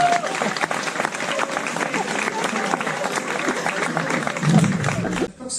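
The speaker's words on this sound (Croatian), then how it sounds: "Aplauz za Vida, molim vas." Audience applause for a young man named Vid at a live stand-up comedy crowdwork show, a dense, steady wash of clapping from a full room that holds for several seconds before dropping away near the end.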